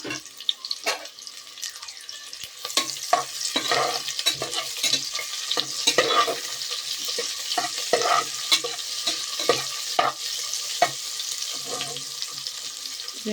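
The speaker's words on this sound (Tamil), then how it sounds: "இப்போது வெங்காயம் போட்டுக்கலாம்." Long-sliced onion sizzles in hot oil in a pan for a potato and green peas curry, with repeated scraping and stirring strokes of a spoon cutting through the steady frying hiss, close and fairly loud.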